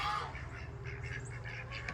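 Ducks at a backyard duck pond quack and squawk faintly in a scattered series of short calls over a low, steady background rumble.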